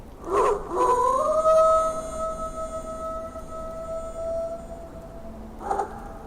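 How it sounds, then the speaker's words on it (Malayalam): Dire wolves howl: long, sustained, rising-then-level howls that carry for several seconds over a quiet background. They begin with short yelping onsets and end with a brief extra howl. "സ്റ്റാഫുകളുടെ പാട്ടിന് ബദലായി അവ ഓരിയിടാൻ ആരംഭിച്ചു"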